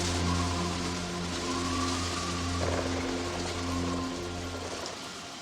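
Rain pours heavily and steadily in a dense, hissing wash, joined by a low sustained droning hum that fades slightly toward the end, with no voices.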